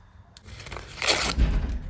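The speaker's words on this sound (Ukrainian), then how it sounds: "Так, відкриваємо пакетик." Plastic packaging crinkles and tears open up close, a short crisp rustling burst that thickens toward the end.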